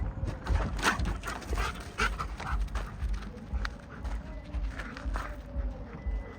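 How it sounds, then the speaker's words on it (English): A dog pants and barks at a park, with brief whimpers over steady ambient noise and a faint voice in the background. "As you can see, he's already very anxious and barking."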